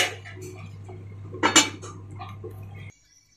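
A metal lid lands on a pan of capsicum and potato curry with a bright clatter and short rattle over a low steady hum, then everything cuts to silence.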